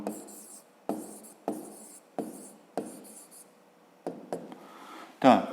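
Hand writing out an answer on paper, several short scratchy pen strokes in bursts with pauses between, close and quiet, ending with a brief louder rustle.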